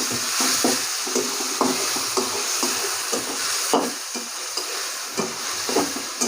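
Native tomatoes are stirred into noodles frying in a pan, a steady close sizzle punctuated by rhythmic scraping strokes of a spatula, with no voices.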